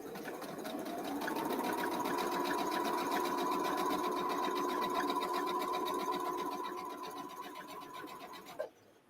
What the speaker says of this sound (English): Now I'm sewing at an enlarged quarter, which is just the line on the other side.